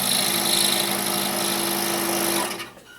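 A scroll saw blade cuts a line through a thick, 1.5-inch-wide piece of wood, giving a steady, close buzzing whine with a constant motor hum that runs evenly, then stops abruptly near the end.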